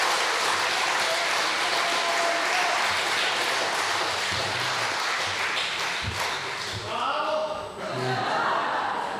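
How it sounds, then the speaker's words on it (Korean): Church congregation applauding in a large hall, a loud, steady wash of clapping that fills the space and then thins out and trails off near the end. "다시 박수하세요."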